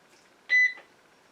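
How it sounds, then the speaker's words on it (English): A Magical Butter machine sounds one short, clear electronic beep at the end of its blend clean cycle while mixing magnesium lotion. The beep is steady and stands alone against a quiet room. "My blend clean cycle is through with. You can hear it beeping."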